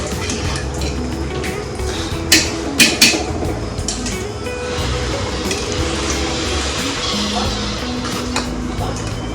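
Rice boils hard in a pot of water on the stove for a chicken dum biryani, a continuous rolling bubble up close, with a few sharp metallic clinks of a utensil against the pot.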